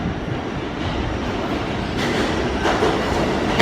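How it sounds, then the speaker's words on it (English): A New York subway train arriving in a station, a steady rumbling roar that grows louder toward the end, with rail noise and a faint rising screech as it comes in. "Looks like I hear a train."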